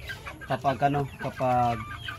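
Three-month-old backyard chickens cluck in a short rhythmic run of calls, fairly close, with a steady low hum underneath.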